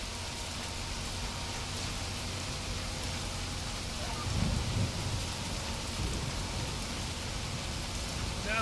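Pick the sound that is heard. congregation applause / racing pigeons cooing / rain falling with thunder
rain falling with thunder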